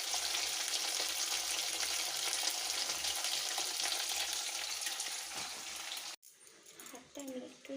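Fish sizzles and crackles steadily in a pan on a gas stove for about six seconds, then the frying cuts off abruptly, leaving quieter kitchen clatter.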